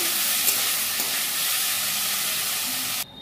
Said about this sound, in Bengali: সর্ষের তেল দেব, আলুটা ভেজে নেব।